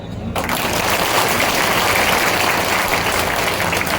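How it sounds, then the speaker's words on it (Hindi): Dense, steady applause from a large audience at a political rally in Kolaras fills the space, loud and unbroken after a brief quieter start. "तालियां कम बजी।"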